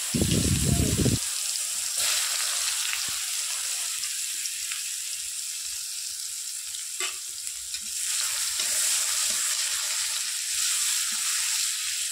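Oil sizzles steadily in a pan as a fish curry starts cooking after the fish is fried, a loud burst at the start then a continuous crackling hiss with occasional stirring clinks.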